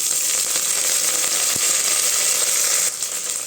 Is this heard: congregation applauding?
no